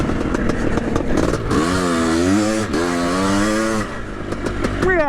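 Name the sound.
1982 Husqvarna CR500 automatic 500cc two-stroke dirt bike riding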